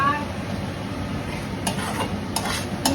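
Spice paste frying in a pan, a steady close sizzle with scraping stirs and a few clinks of a utensil against the pan.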